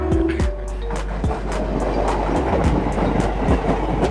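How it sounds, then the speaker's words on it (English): A Jakarta metro train rumbles into a station with a steady low roar and clattering wheels over rail joints, close and loud throughout. "The train is here."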